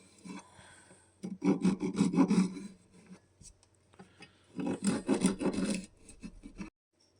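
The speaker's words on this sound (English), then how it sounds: "So now I'll clean the sawdust out of the fret slots." Sawdust is scraped and rubbed out of the fret slots of a Telecaster-style guitar neck, two bursts of quick, close rasping strokes separated by a quiet pause, with no talk.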